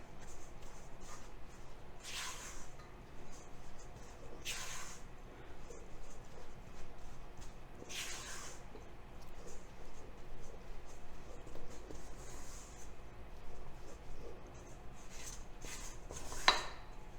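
Stiff, dry chocolate chip cookie batter being mixed in a bowl, giving soft, quiet scraping strokes that recur every couple of seconds with no talking.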